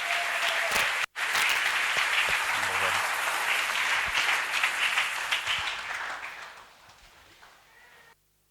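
A church congregation applauds steadily and loudly, the dense clapping holding for several seconds before fading away toward the end.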